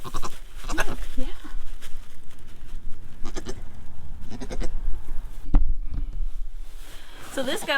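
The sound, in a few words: Nigerian dwarf goat bleating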